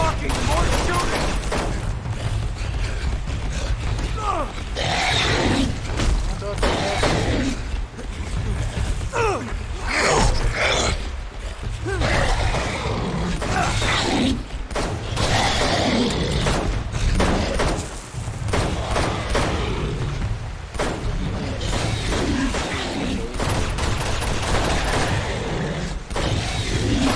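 Gunfire in the video game Uncharted 2 crackles in repeated bursts and volleys throughout, with mechanical clanks and booms, mixed under occasional talk.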